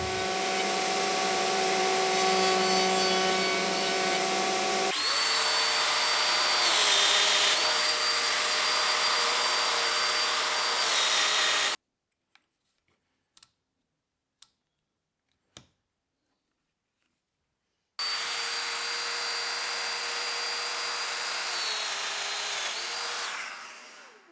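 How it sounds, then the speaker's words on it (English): A router on a router table rounds over the edges of wooden chair parts made from scrap timber with a loud, steady whine. Two long runs are separated by a quiet pause holding only a few light clicks. "I can take it over the router table and give it a round over."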